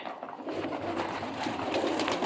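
Soft, low cooing of peacock-tailed (fantail) pigeons drifts through a steady rushing background, continuous and fairly close, with no talking.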